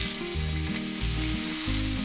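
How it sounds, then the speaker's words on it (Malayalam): Fish fries in oil in a pan with a steady, close sizzle, while low tonal hums shift in steps underneath. "ഇത് കുറച്ച് എണ്ണ ഒഴിച്ചു കൊടുക്കാം. ഇതിലേക്ക് മീൻ നേരത്തെ വെക്കാം."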